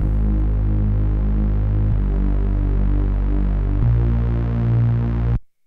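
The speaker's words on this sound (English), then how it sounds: "It plays the exact same notes that the original bass did, and you can see I'm just automating that filter cutoff to help us get that build." A bass synth line repeats the same low notes in steady pulsing throbs while its filter cutoff is automated for a build, loud and alone, stepping through three held notes before stopping abruptly.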